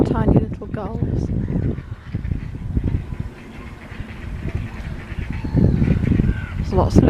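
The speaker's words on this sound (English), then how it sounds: "There's the Canada geese. And ducks." Canada geese and ducks honk and quack on open water, with several overlapping calls and splashes rising and falling through a busy outdoor scene while people talk nearby.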